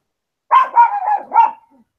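A dog barks four times in quick succession, close and loud, each bark short and sharp with a slightly whining, yelping edge, standing alone against silence.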